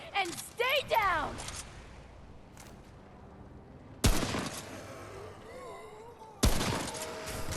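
Gunfire rings out in the video game Remnant From The Ashes, with two loud sharp shots several seconds apart, each followed by a ringing decay, alongside earlier chattering bursts and game sounds.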